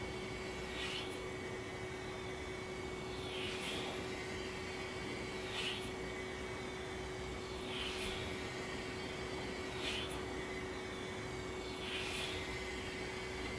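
A model beam engine runs on a whisper of compressed air, giving regular soft puffs of exhaust about every two seconds over a constant airy hiss and a faint steady hum, quiet and close with no talking.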